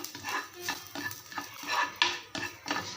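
Crushed garlic stir-fried in oil, dry roasting for idli podi, with steady scraping stirs of a spoon against the pan and a light sizzle, close and moderately quiet, in a regular rhythm.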